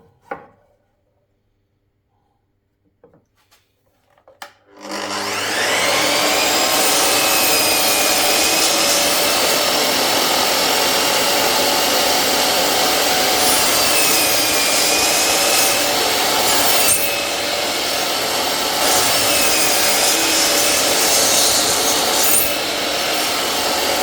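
A power saw cuts a rebate into timber for a horizontal bee hive, starting after a few quiet knocks and then running as a loud, continuous close whine with shifting pitch for about twenty seconds.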